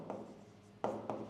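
Pen writing algebra on paper during a math lesson, a soft scratching stroke followed by two brief, louder scrapes close to the microphone.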